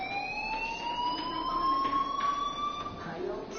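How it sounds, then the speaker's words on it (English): An electronic fire alarm in the video game Life is Strange, a steady rising tone with bright harmonics ringing continuously throughout at moderate loudness over a faint background. "Hey, do you hear that fire alarm?"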